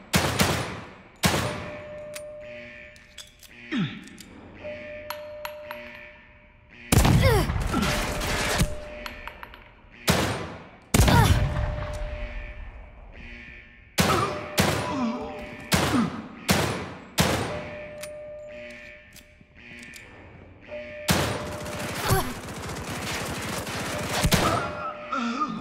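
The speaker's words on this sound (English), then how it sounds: "Fire in the hole! Grenades." Repeated bursts of gunfire and heavy blasts from grenades ring out in the Evil Within 2 video game. Loud, sharp volleys come in irregular clusters, separated by quieter gaps with a faint tonal hum.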